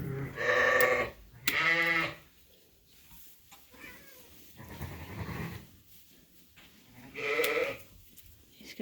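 Ewes and lambs bleating in a sheep barn during spring lambing: loud harmonic bleats at the start and again near the end, with quieter shuffling and low farmyard noise in between.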